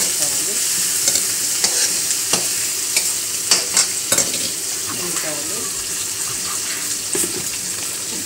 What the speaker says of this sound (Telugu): పచ్చిమిర్చి వేసి దాన్ని కొంచెం బాగా ఫ్రై చేసిన తర్వాత ఉల్లిపాయలు వేసుకోవాలి